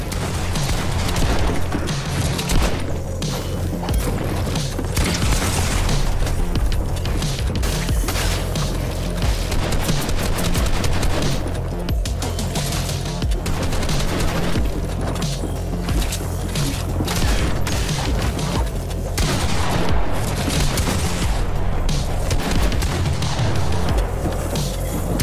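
Continuous gunfire and combat noise in the video game Fortnite, dense and loud throughout, with shots cracking over a busy bed of game sound effects and no pauses.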